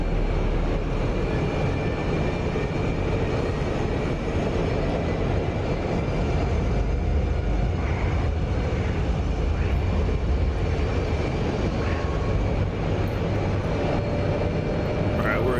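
An F-106 Delta Dart jet in the DCS flight simulator roars continuously at low altitude, a dense, steady broadband engine rumble with no breaks and no talk over it.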